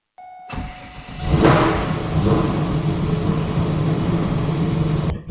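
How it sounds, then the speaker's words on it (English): A Gen 2 LT1 car engine cranks and fires up close by, surging into a loud rev before settling into a strong, steady run that continues to the end. "I'll see if it starts and squeals and charges."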